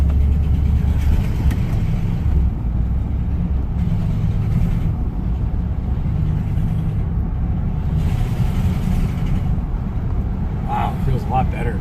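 A classic car engine idles with a small exhaust leak, a steady low rumble and throaty chuff running continuously while someone talks over it.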